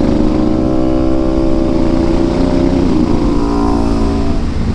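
A Honda Africa Twin DCT two-cylinder motorcycle engine runs loud and close with a deep, thick, bassy drone and small swells in pitch.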